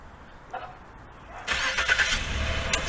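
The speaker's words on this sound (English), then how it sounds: "I just remote started my car." A 1998 Infiniti I30T engine starting by Viper remote starter: quiet ambience with a couple of faint clicks, then the engine cranks and catches into a steady close idle.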